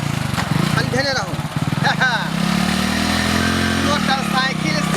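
A motorcycle engine runs steadily and loudly close by, its mid-pitched drone carrying through the whole stretch while people talk over it.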